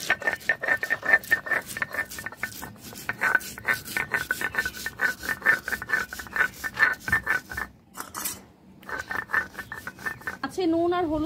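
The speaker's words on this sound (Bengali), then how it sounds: "সর্ষে আর লঙ্কা বেটে নেব।" Mustard seeds and chillies ground into a paste by hand for a Bengali fish curry, a steady rhythmic rasping and rubbing close up, repeated strokes with brief pauses, and a voice speaking briefly.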